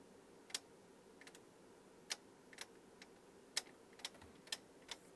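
Detent clicks from an adjustment knob on a Tektronix 576 curve tracer, about nine sharp, quiet ticks at irregular intervals over a faint steady hum, with no voices.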